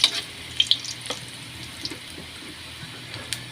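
Garlic dropped into hot oil for chicken tinola, giving a faint crackling sizzle with a few sharp spatters early on, close by and with no talking.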